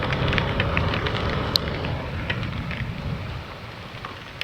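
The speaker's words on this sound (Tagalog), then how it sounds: "Buti hindi ganun kalakasan yung ulan." Light rain falls steadily outdoors at night during a delivery stop, a constant soft patter with a few sharper drops and no talk.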